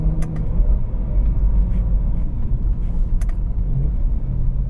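A BMW M3 with a dual-clutch gearbox cruises on a highway, giving a steady low road and engine rumble with tire roar. A few faint, brief higher ticks stand out, and no one speaks.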